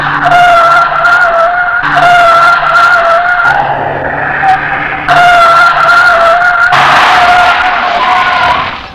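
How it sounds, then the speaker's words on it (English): Loud, sustained tire squeals from a 1987 BMW 325i sedan skidding on a skid pad, in several long screeching passes separated by brief pauses. "let's go get on a skid pad and evade some accidents"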